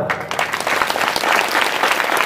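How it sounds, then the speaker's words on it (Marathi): A kirtan audience claps steadily, a dense, loud wash of applause filling the hall at close range for a couple of seconds. "यानंतरच्या जोरदार टाळ्या"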